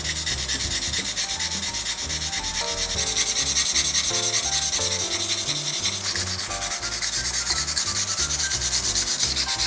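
Rust is scrubbed off a knife blade in a continuous close rubbing, sanding-like scrape that holds steady throughout, with a musical bed running underneath.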